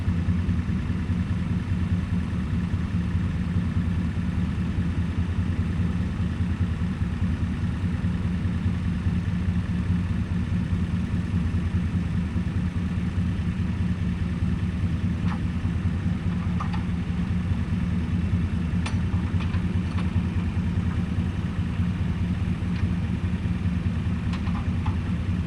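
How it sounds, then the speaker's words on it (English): A tractor runs steadily while pulling a fallen tree free after an ice storm, a continuous low engine drone at constant volume with a few faint clicks and knocks near the end. "operating the tractor"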